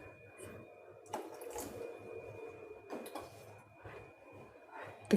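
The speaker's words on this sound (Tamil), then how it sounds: "கொஞ்சம் தண்ணி போட்டுக்கலாம்." Water trickles and splashes softly into chickpea dosa batter in a bowl, with scattered faint drips and light utensil clinks. A steady thin whine runs underneath the quiet pouring.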